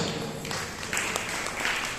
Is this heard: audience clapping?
yes